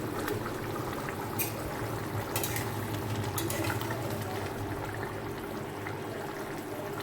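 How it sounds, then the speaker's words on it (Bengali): Fish curry broth with pointed gourd simmers at a rolling boil in a home kitchen pot, a steady bubbling, gurgling wash close by with occasional brighter splashes and no talk. "এই যে ঝোলটা ফুটে গেছে, এবার মাছগুলো আমি দিয়ে দেবো।"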